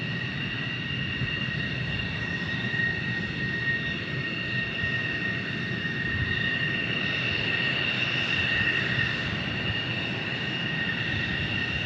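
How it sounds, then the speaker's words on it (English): A commercial airliner on final approach into Tucson International Airport: a steady, sustained jet roar with a whining high tone, moderately loud and unchanging throughout, no voices. "And then we got a commercial flight on final."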